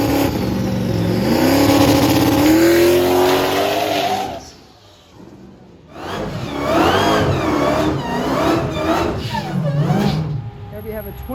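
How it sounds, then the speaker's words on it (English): A 2011 Dodge Challenger SXT with a Hellcat engine swap and Hellcat front end revs hard at a private track day, engine roaring up and down in loud close surges with a brief lull between. "There we have a 2011 SXT V6 Challenger with a Hellcat swap and a Hellcat front end."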